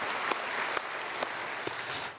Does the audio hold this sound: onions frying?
no